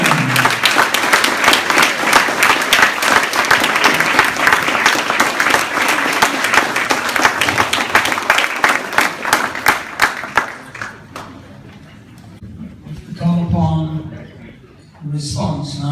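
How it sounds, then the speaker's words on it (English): Hearty applause fills a ladies night dinner hall, dense and steady for about ten seconds before fading into scattered claps and murmuring voices, with brief talk near the end. "a hearty applause, please, and appreciation for Worshipful Brother Julian"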